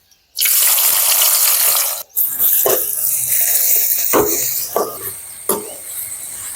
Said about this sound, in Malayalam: അരിഞ്ഞ് വെച്ചിരിക്കുന്ന സവോളയും കൂടെ നമുക്ക് വറുത്തെടുക്കാം.